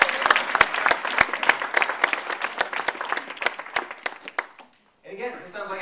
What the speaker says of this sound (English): Please give a round of applause for Stephen and Verena!